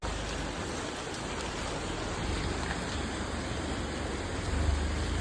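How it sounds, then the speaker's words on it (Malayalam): Steady, dense rain hisses evenly throughout without pause, a constant wash of noise with no voices. "മഴ നല്ല കൂടുന്ന സാഹചര്യമാണ് ഇപ്പോൾ"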